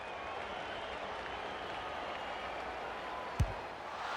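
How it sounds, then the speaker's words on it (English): A steady roar from a large stadium crowd cheering at an Australian football match, Adelaide versus Essendon, with one sharp thump near the end. "The crowd noise tells you all you need to know."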